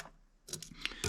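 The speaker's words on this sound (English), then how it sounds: "using an old pair of scissors" An old pair of scissors snips through fly-tying material on a midge pupa pattern, several quick, faint close cuts in about a second, with no talk.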